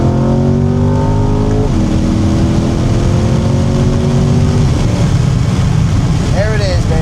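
A Chevrolet C8 Corvette Stingray's engine revs loudly from inside the cabin as it downshifts to third gear, pitch dropping at the shift and then climbing steadily under hard acceleration.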